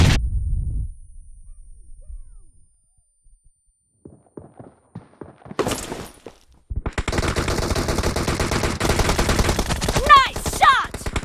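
Rapid automatic gunfire from a team deathmatch video game bursts out loud and dense in the second half, after a low rumble, near silence and a few scattered clicks and shots.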